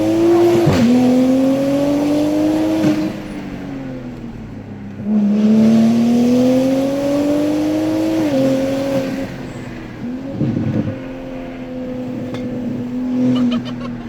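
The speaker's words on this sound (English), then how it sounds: "Throttle, full throttle." Tuned Toyota A90 Supra driven hard on a mountain road, the engine roaring up through the revs at full throttle in repeated pulls broken by quick shifts and lifts, loud and close from inside the cabin.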